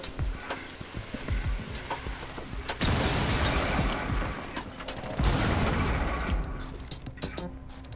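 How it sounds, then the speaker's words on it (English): In the Rainbow Six Siege video game, a breaching charge blows with a loud, crackling burst, followed by another heavy blast amid scattered gunfire and clattering in-game action. "Can they hear you when you set off the breaching charge?"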